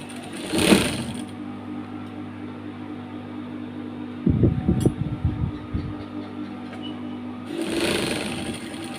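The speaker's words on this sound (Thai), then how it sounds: "เย็บคืนหลังจากเลาะแขนออกมาแล้วนะคะ" A sewing machine restitches a garment seam after a sleeve has been unpicked, a steady close motor hum with a brief louder burst of stitching partway through, bracketed by short rustles of fabric handling.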